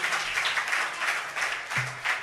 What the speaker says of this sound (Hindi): एक बार जोरदार तालियां तो बजाएं इनके लिए सभी लोग